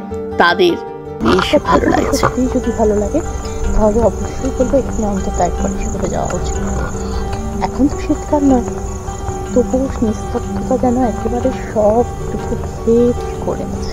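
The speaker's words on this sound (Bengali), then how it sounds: "ঝিঝি পোকার ডাক" Night insects, crickets, chirp steadily around a lakeside lodge at Chilika Lake in Odisha, a constant high trill beneath someone talking close by throughout.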